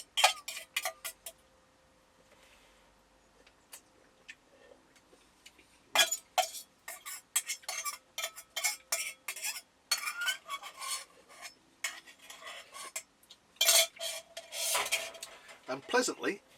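A spork scrapes and clicks against the bottom of a bowl of Maggi instant noodles, close up, in bursts of quick rasping strokes separated by brief quiet pauses.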